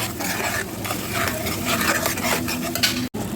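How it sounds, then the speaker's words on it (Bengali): Yogurt and green chili paste are stirred into frying masala in a pan, giving a dense, steady sizzle mixed with repeated scraping of a spoon against the pan, close and loud with no speech. "আমি এখন দই আর কাঁচা লঙ্কা বাটা দিয়ে দেবো।"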